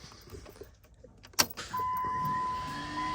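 A truck's engine cranks and catches with a sharp burst, then settles into a steady idle hum close by, after a few quiet clicks and shuffles in the cab.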